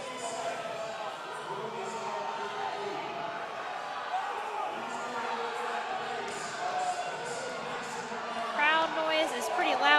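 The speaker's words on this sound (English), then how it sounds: "Crowd noise is pretty loud here for these guys." Loud, continuous crowd roar fills the arena during the final heat of an amateur national strongman championship, with cheering swelling toward the end and a commentator talking over it.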